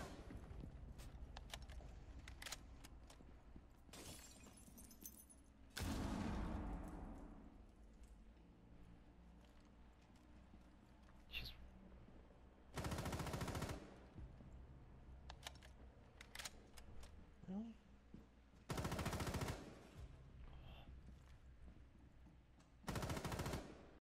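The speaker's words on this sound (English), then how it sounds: "Behind you, they're gonna shoot you." Video game gunfire comes in several short, loud bursts, spaced apart, over a quiet background with scattered faint clicks and thuds, and no talk heard.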